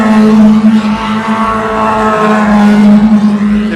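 Porsche race cars roar past during the night at the 2016 24 Hours of Le Mans, a loud, sustained engine drone whose pitch shifts as the cars pass, with no voices.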